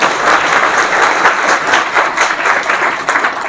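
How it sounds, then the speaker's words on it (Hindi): An audience at a UP board toppers' event applauds the students with loud, dense clapping that swells in uneven waves, close and continuous throughout. "इनके लिए आप लोग जोरदार तालियां बजा दीजिए।"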